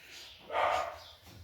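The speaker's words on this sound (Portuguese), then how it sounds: "Senão ele não vai parar de latir." A dog barks once at moderate distance, a short burst standing out over a quiet room with faint background noise.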